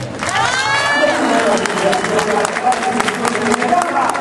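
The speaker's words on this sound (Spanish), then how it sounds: "Pido un aplauso para el compañero Valfre Vargas Cortés." Rally crowd applauding in the Zócalo, dense clapping and cheering that holds steady throughout, mixed with a voice and crowd babble.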